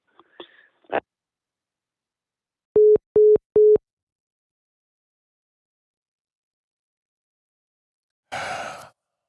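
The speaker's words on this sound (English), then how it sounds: "Just for the record, that was a disconnect of the phone call." Three short, evenly spaced electronic beeps sound after a phone call disconnects, clean and loud in near silence, framed by a brief breath or sigh before and a longer exhale afterward.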